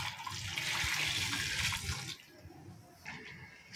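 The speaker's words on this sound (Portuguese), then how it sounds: "agora eu vou colocar todinho. 2 litros de água fervendo" Two liters of boiling water poured out in one steady, loud rush over about two seconds, then trailing into a quieter splash and trickle, for a liquid soap made from shine paste.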